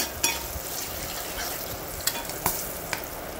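Andhra chutney seasoning fries in hot oil after the stove is switched off, giving a continuous sizzle punctuated by several sharp pops and crackles of spluttering spices, close and clear.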